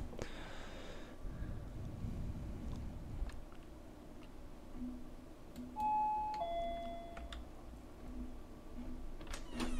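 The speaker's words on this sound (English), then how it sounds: "Left click to ring the bell." A hotel bell rung in a horror game, heard as a few clear, bright dings ringing out over a quiet room tone after a burst of low rumble at the start.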